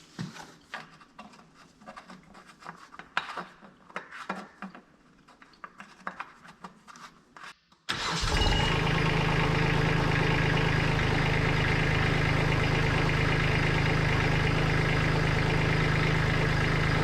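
Kubota B2601 compact tractor engine cranks and catches partway through, then settles into a steady, loud diesel idle that runs uninterrupted to the end, after a stretch of quieter handling noises.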